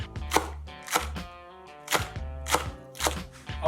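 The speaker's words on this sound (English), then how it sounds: "now we're just gonna slice up some green onions for our turkey tacos" Knife slicing green onions for turkey tacos on a cutting board, a steady series of crisp chops about every half second, close and clear with no talking.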